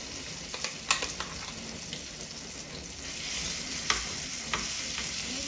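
Coarsely ground coriander-tomato chutney paste hits a hot mustard-seed and chilli tempering, giving a bright, continuous sizzle with scattered sputtering pops and light stirring.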